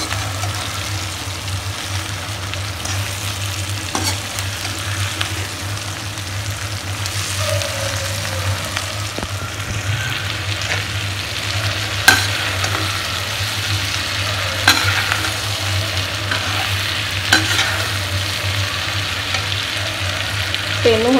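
Fried potato and cauliflower are mixed through hot oil in a pan, giving a steady low sizzle with occasional scrapes and soft clatters of the spoon, close and continuous for about twenty seconds.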